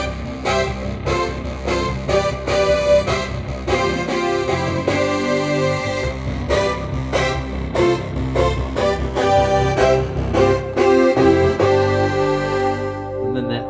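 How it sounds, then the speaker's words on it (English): Old analog Oberheim synthesizer pad layered with a second analog synth module, played as rhythmic chords with steady pulsing attacks, full and sustained throughout with no talk. "Underlying sound being that Oberheim padded sound."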